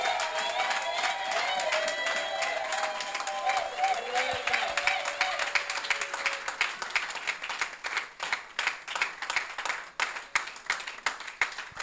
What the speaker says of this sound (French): Je veux voir quelqu'un acclamer la présence de Dieu.